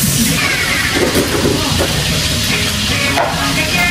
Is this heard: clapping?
no